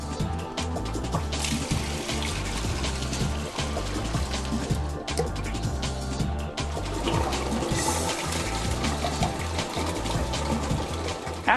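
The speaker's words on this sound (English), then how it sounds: "it's time to dump your solution tank and your recovery tank" Water gurgling and splashing out of a Windsor Treadway escalator cleaner's solution and recovery tanks as they are dumped, a continuous pouring flow with rhythmic glugging, close and loud.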